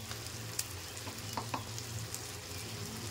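Masala paste fries in a pan with red chilli powder added, giving a low, steady sizzle with faint crackles and a few soft clicks of stirring, quiet and close with no voices.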